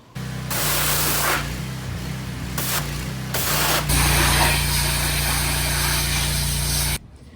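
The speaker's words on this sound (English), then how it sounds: "we're about to power wash this bad boy, make them all nice and clean." A pressure washer cleans an old Snapper mower, giving a loud, continuous hissing spray close to the microphone with a steady low motor hum beneath; the spray briefly cuts out several times, then runs unbroken before stopping abruptly.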